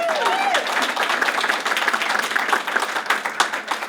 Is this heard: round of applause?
yes